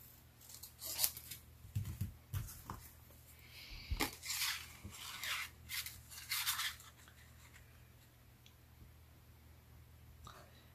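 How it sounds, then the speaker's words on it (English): Scissors trim paper off a punched card piece in several close, crisp snips, spaced irregularly with quiet rustling between cuts. "I'll just move it on to the next one after I trim the paper off"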